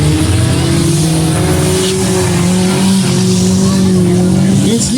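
Autocross cars race around a muddy demolition derby track, with loud, close, sustained engine roar from several cars overlapping and a faint voice underneath.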